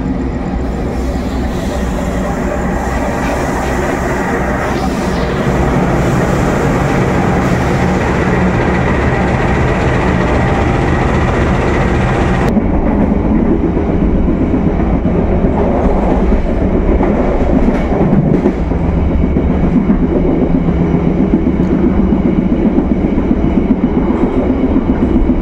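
The KA Kutojaya Selatan passenger train rolls along the rails, a loud continuous rumble with rhythmic clickety-clack wheel beats heard throughout, the tone shifting midway as the surroundings change.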